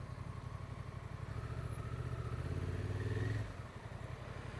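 A Honda Transalp 750 motorcycle carries a pillion passenger, its mid-pitched engine thrumming steadily under wind rush, swelling briefly and then easing off.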